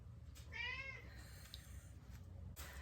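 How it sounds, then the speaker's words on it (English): A house cat gives one clear drawn-out meow close by in a quiet room, followed by a fainter second call and brief soft rustles. "Ignore my cat."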